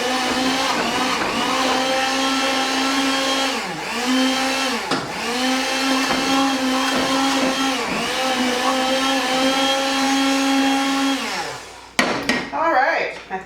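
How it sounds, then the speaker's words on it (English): An immersion blender whirs steadily through squash soup, a loud sustained motor drone with brief dips in pitch as the blade bogs in the thick mixture, then cuts off near the end with a few clunks. "And I'm going to use my immersion blender. And I am going to blend it up."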